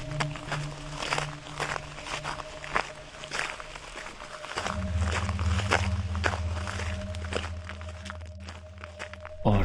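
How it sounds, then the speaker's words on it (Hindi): Steady footsteps crunch along at a regular walking pace, fairly close, over a low droning background that deepens partway through. "चलते हुए उन्हें अपने पैरों की आवाज महसूस हो रही थी।"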